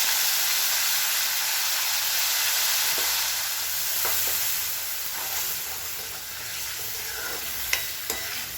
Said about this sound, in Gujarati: ડુંગળીની ગ્રેવીને આપણે સરસ રીતે સાતળી દેવાની છે